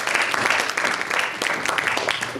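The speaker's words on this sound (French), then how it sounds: "Je vous invite à applaudir vivement" An audience at a scientific scoliosis conference claps steadily and warmly for an invited doctor, a dense, even wash of applause throughout with no voices.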